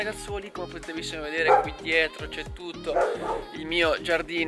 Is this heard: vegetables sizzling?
no